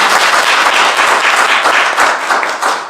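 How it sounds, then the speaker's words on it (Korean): Forum attendees clap loudly at an emergency fine-dust forum held at the Korean National Assembly, a close, dense burst of applause that keeps a steady rhythm for a few seconds. "우리가 큰 박수를 한번 보내드립니다"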